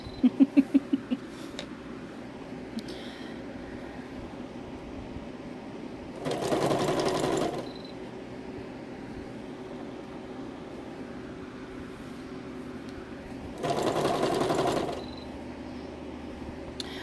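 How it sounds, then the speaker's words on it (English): Two short bursts of a sewing machine whirring, each lasting about a second and a half, separated by a quiet pause with a few faint taps at the start. "I have not been pleased with this sewing machine pretty much since the moment I got it"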